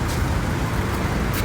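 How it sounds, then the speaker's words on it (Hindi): A car pulls up on a road to collect travellers heading to Phi Phi Island near Phuket, its engine and traffic rumble steady and close throughout, with no voices. "और ये हमारी गाड़ी आ चुकी है।"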